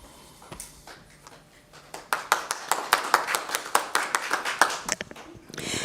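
Applause at a York City Council press conference on anti-ghost-gun legislation: a few scattered claps swell into a short, crisp round from a small group, close and distinct, then it ends as talk resumes.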